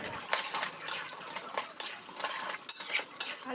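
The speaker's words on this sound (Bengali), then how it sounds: "এই অবস্থায় চর্বিগুলোও আমি দিয়ে দেবো মশলার সাথে কষিয়ে নেব আমি" A metal spoon stirs spice masala with mutton fat in a pan for ghugni, making close, irregular scraping clinks and taps over a faint frying hiss.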